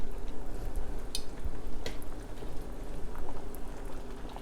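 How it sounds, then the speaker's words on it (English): Spicy Korean braised chicken broth boils hard on high heat, bubbling steadily and densely close by with small pops, and no one speaks. "bring the heat to high to reduce the broth a little bit"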